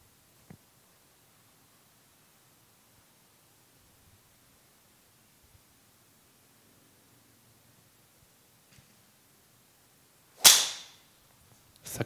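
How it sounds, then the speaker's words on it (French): A golf driver strikes the ball on a tee shot at an indoor golf venue: one sharp, loud crack followed by a brief whooshing decay, with near silence before it. "Ça tape. C'est pas son meilleur drive, soyons honnêtes."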